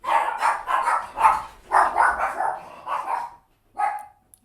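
A dog barks repeatedly in quick bursts, fairly close and loud, then falls quiet and lets out one last bark after a pause.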